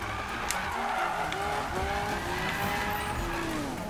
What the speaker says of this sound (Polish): Wow, ale popierdziela po tych zakrętach tym swoim małym Porsche.